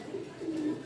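A pigeon coos softly in a loft, two short low burbling calls heard close but quiet.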